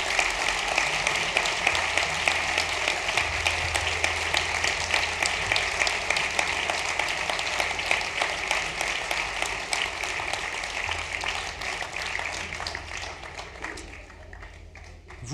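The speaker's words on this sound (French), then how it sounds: "je vous demande de bien vouloir applaudir les quelques 200 agents communaux de la ville" Applause for the roughly 200 municipal employees at the mayor's New Year's greetings ceremony in Cusset, a dense, sustained crowd clapping that fills the room and slowly fades toward the end.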